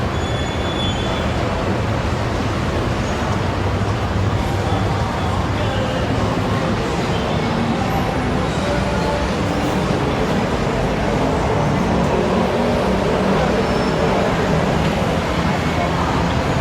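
A steady, loud rumble of a BTS Skytrain in motion near Asok station in Bangkok fills the whole stretch, continuous rolling noise with faint squeals and a murmur of voices underneath.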